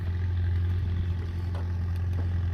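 A 1982 Oldsmobile diesel engine idles after a cold start, a steady low rumble with faint clatter running unbroken and fairly loud throughout.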